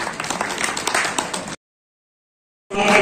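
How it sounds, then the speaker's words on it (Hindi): A crowd at a Samajwadi Party workers' meeting claps loudly for about a second and a half, cuts to silence, then the applause resumes near the end. "जोरदार ताली"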